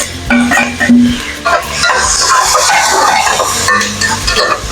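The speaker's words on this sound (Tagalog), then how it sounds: "Nilagay ko na yung sibuyas. Nagigisa na ako." Onions sautéing in a pan, a steady close sizzle with scraping stir strokes throughout, opening with a few clinks of utensils against the pan.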